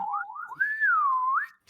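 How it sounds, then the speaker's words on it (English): Slide whistle effect during a tabletop roleplaying session, a single sustained whistled tone gliding up and down in pitch for over a second, clear and close with no talk over it. "You see how we need the slide whistle sound here"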